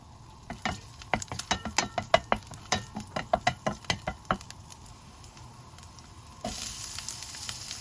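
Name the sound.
sautéing garlic in hot oil in a cooking pan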